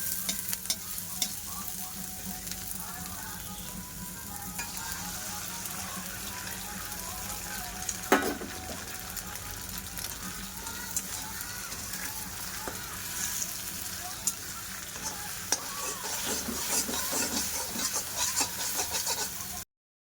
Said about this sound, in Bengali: যে পেঁয়াজ ভাজা ভাজা হয়েছে